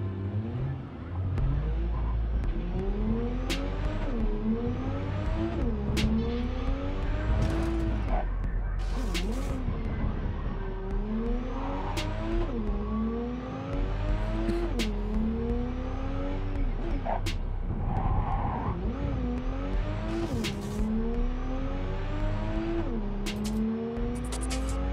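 A car drives in Cyberpunk 2077, its engine note climbing and dropping through repeated gear shifts with tire noise, continuous and steady, with speech intermittently audible over it.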